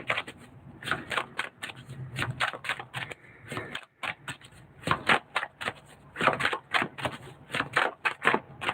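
A deck of cards is shuffled before a reading, with quick bursts of crisp, close riffling and slapping that repeat in uneven clusters.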